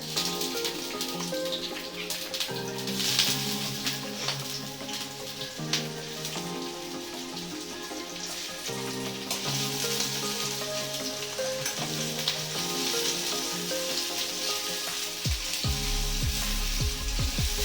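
Chopped onion frying in hot mustard oil, a steady close sizzle and crackle with faint stirring, continuing alone without talk throughout.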